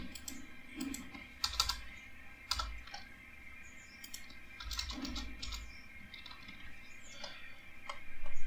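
Rapid clicking of a computer keyboard as a multi-line markdown code block is typed, uneven bursts of close keystrokes with brief pauses between them and no voices.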